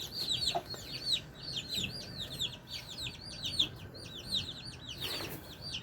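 Chickens in a Nepali village cluck and chirp in quick repeated bursts, moderately near and fairly quiet over light outdoor background noise, with one louder broadband rustle near the end.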